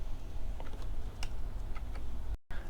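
Code being typed on a computer keyboard: a quick, uneven run of light key clicks at close range, fairly quiet, with a short dropout of silence near the end.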